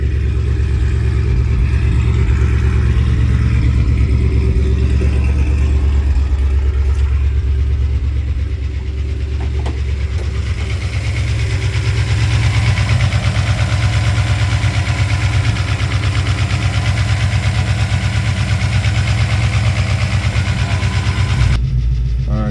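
A car engine running with its exhaust valves open, a loud, steady, deep rumble held close for the whole stretch, with a slight dip partway through and no talking.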